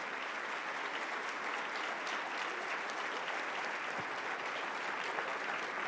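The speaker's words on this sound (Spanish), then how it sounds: "al pedir un aplauso para nuestros ponentes" Sustained audience applause for the panel speakers at a Coparmex forum on Mexican society, a steady dense wash of many hands clapping at moderate distance, with no voices over it.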